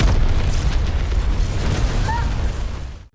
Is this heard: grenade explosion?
yes